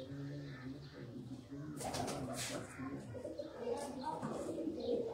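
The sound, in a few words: Sialkoti pigeons cooing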